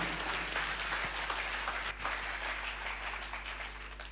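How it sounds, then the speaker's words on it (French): A church congregation applauds and cheers for David, a sustained wash of clapping that fades slightly toward the end over a steady low hum. "Est-ce que tu peux acclamer pour David?"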